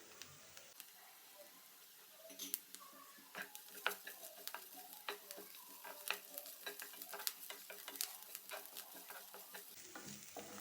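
Ginger garlic paste frying in a pan, being made for a leftover roti fry, crackles and pops in quiet, irregular bursts, with scattered spoon scrapes and taps across the pan.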